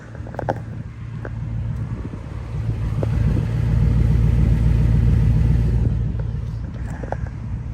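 A 1979 Lincoln Continental, abandoned for 32 years, idles steadily nearby after a long drive, a low continuous rumble that swells slightly in the middle, with a few faint clicks and knocks over it.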